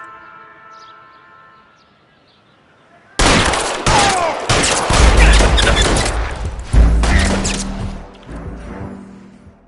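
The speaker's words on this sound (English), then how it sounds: "All units, shots fired, officer needs help." A burst of gunfire erupts in an L.A. Noire shootout after a quiet musical stretch, loud cracking shots crowding together over sustained wailing tones and rumbling, with no talk heard.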